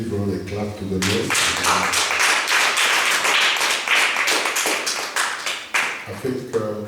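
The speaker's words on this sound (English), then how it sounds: "Let's give all a clap to the Lord." A church congregation claps together for several seconds, a dense burst of hand claps that starts abruptly and cuts off, with voices speaking briefly before and after.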